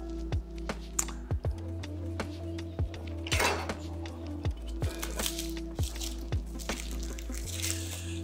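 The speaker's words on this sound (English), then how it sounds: "I will prepare first garlic sliced." Garlic being sliced with a knife on a cutting board in a home kitchen, a steady series of sharp, close chopping taps in an uneven rhythm, with faint kitchen clatter around them and no talking.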